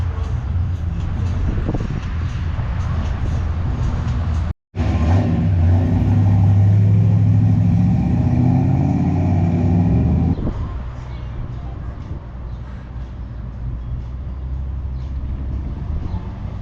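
Vintage cars, hot rods and muscle cars cruise along a street at a Friday night retro car festival, with a loud, close engine rumble that drops out briefly, then continues more quietly as the vehicles pass.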